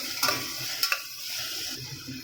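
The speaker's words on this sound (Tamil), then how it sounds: "ஒரு தக்காளியை கட் பண்ணி வச்சுருக்கேன் அதையும் சேர்த்து வதக்கிக்கிறலாம்" Onion and tomato sauté in a pot for a mutton uppu saaru, a soft frying hiss punctuated by two quick metallic clinks of a stirring spoon.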